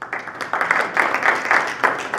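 Audience applause at a library event honoring a staff member, a steady patter of many hands clapping in a room, moderately loud, rising in small waves over a couple of seconds with no talk on top.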